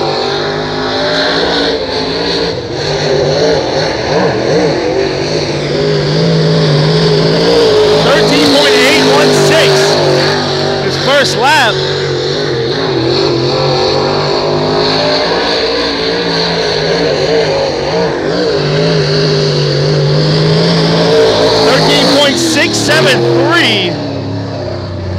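A dirt track race car at Hattiesburg Speedway roars under a continuous loud engine drone as it takes the green flag for a heat race, revving and shifting pitch through the laps, with a commentator talking over it.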